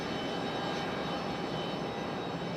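A Frontier Airlines airliner pushing back at Raleigh-Durham International Airport, heard as a steady, even jet-engine roar at a moderate distance with no talking.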